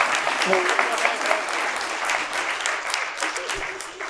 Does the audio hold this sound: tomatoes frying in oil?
no